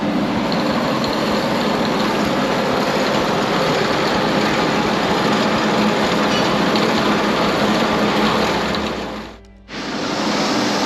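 Hotrod tire spinning on a truing machine as it is worked softer: a steady, loud, close roar that holds without a break for about nine seconds, dips briefly and then resumes.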